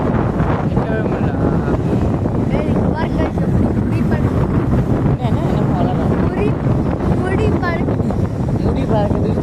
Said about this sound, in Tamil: சரியான காற்று, நிற்கவே முடியல.